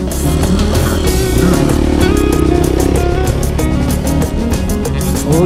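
A motorcycle rides a slippery mountain route toward Sukawana on Tangkuban Perahu, its engine droning loud and steady with wind rush at close range, no talking.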